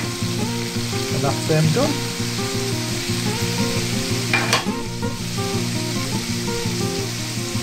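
Whitebait frying in a pan gives a steady, close sizzle under a humming, tonal background, with a brief scrape or clatter partway through; a voice speaks briefly near the start.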